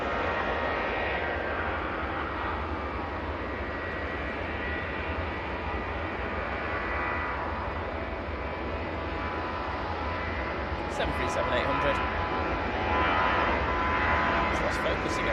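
Ryanair jet departing Manchester Airport, a steady moderate engine roar at some distance that builds slightly toward the end, with brief talk near the close.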